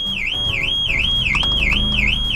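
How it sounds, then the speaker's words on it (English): A 2013 Volvo XC90 car alarm sounds: a loud, steady electronic siren sweeping up and down in a fast repeating wail, with faint workshop noise beneath. "you know something's working because it set the alarm off"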